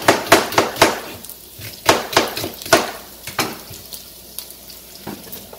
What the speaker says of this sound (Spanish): Ahora le vamos a echar la cebollita picada.